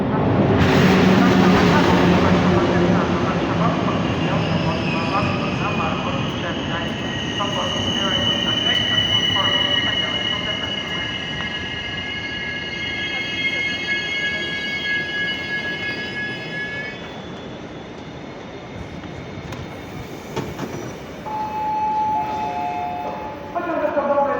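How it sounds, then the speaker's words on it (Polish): Intercity express train Sobieski, hauled by an electric locomotive, rolls into Gdynia Główna station with a loud continuous rumble of wagons and sustained wheel squeal and brake screech, tapering as it slows; a faint voice appears briefly. "Wjazd pociągu ekspres Intercity Sobieski do stacji Gdynia Główna."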